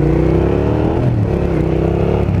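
A Suzuki SV650 motorcycle engine revs as the throttle is worked while riding. The exhaust note is loud and close, rising and falling in pitch over a couple of seconds.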